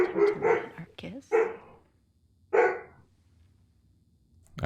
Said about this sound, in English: I have some dogs that are playing in the house.